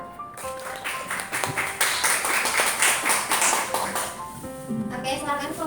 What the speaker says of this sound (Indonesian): Untuk tepuk tangan dulu untuk kelompok 2.